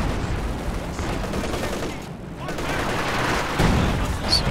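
An 85mm anti-tank gun fires in a Company of Heroes 2 battle, with booms and scattered gunfire layered into a dense, continuous wash of combat noise and occasional heavier impacts.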